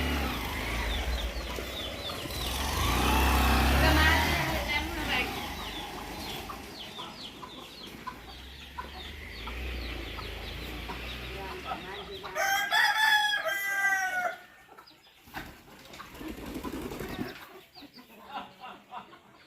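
Local village chickens in Assam, with a rooster crowing and hens clucking amid rustling outdoor ambience; a louder burst of crowing stands out midway before quieter background sounds.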